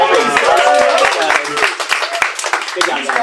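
Studio audience on a TV quiz show applauding after a team wins, a dense wash of clapping with whoops and voices mixed in, loud and sustained.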